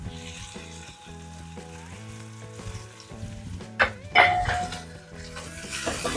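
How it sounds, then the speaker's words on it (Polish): Onion and garlic frying in a pot, a steady close sizzle with scraping stirs and a couple of sharp clinks against the pot, under light background music. "Dosłownie chwilę przesmażamy wszystko razem."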